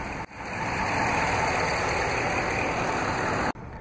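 2016 RAM 1500 crew cab pickup with a 5.7-liter HEMI MDS V8 running steadily, a dense continuous engine drone heard close up and alone, cutting off abruptly near the end.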